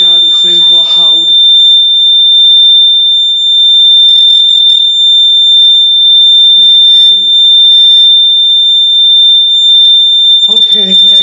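A home smoke and carbon monoxide alarm under test emits a loud, piercing, continuous high-pitched tone, with brief spoken voice announcements at the start and end.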